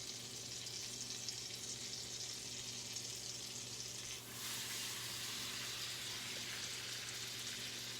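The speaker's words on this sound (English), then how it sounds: "And I just put plenty of butter in the skillet." Plenty of butter sizzles steadily in a hot skillet before French toast goes in, a constant soft frying hiss close by with no talking.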